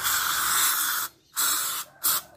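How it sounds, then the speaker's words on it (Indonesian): Spray cleaner hisses in bursts onto a car part during a Toyota Innova 1TR automatic service: one long spray, then two shorter ones, separated by clear pauses. The sound is close and loud, and no one talks over it. "kita semprotkan seperti ini, guys, semuanya"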